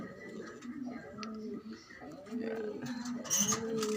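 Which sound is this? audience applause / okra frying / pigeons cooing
pigeons cooing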